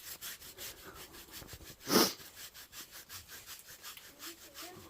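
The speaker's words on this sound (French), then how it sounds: "Ça fait au moins 5 minutes que je le gratte" A horse's chest being scratched by hand: rhythmic rubbing strokes up close, with the horse's loud snorting breath bursting out midway, all fairly quiet.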